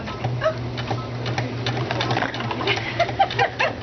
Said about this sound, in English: Now I want to guide my seam to where it goes right between the needles